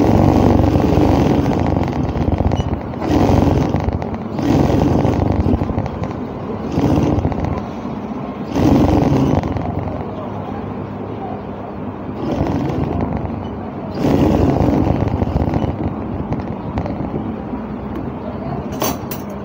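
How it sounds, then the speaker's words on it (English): A sewing machine stitching trouser fabric along the side seam runs in a string of loud, close bursts of whirring, each lasting about a second or two and separated by short pauses. "So I will now hold it this side and sew it from the side."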